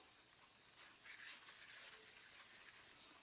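A cloth rubs baby oil and ink off a rubber stamp, giving faint, steady scrubbing strokes in a quick back-and-forth rhythm close up, with no talking.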